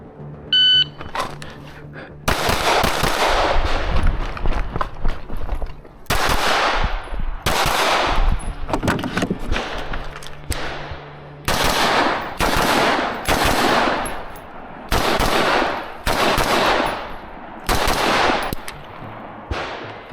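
Rifle fire from a timed run-and-gun shooting challenge at a gun club rings out in loud rapid strings of shots, several separate bursts with short pauses between them, preceded by a brief beep.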